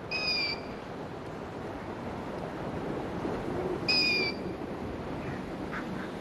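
Wild birds call around the Arribes cliffs, seen from a tour boat. Two short, clear whistled calls, one at the start and one a few seconds later, cut through a steady wash of water and wind.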